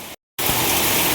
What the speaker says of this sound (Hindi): ये देखो दोस्तों, कितना तेज लगातार बारिशें हो रहे हैं